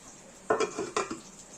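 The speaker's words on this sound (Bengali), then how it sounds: "এখানে আমরা ঢাকা দিয়ে চাপা দিয়ে দিয়েছি।" A metal lid clatters twice onto a pot of Bengali basanti pulao, two quick close clanks with a short ringing tail over a quiet background.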